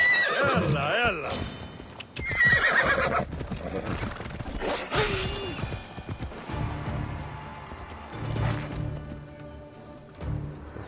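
A horse in the video game Assassin's Creed Odyssey whinnies repeatedly while its hooves clip-clop at a trot, with someone talking over much of it.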